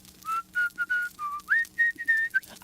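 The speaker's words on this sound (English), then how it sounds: "The security guard heard one of Carmen's local henchmen whistling Waltzing Matilda, a famous Australian song." A henchman whistles the Australian song Waltzing Matilda: a clear, close melodic whistle of about a dozen short sustained notes with small gaps, rising partway through, alone with no talk.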